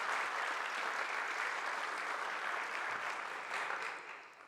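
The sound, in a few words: applause for young people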